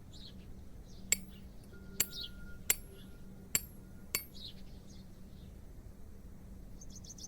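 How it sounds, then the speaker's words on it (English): A chisel chipping at plaster in the video game Hob's Barrow, five sharp, bright metallic strikes spaced about a second apart over a quiet ambient background with faint bird chirps. "I think I can chip away at this plaster."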